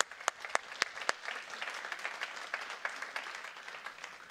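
A church congregation applauds, starting with a few loud, distinct claps close by before settling into a dense, steady wash of many hands clapping together, with no speech over it.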